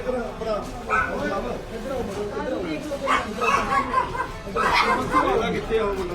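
Dogs bark and yip excitedly close by, mixed with people talking and shouting over them.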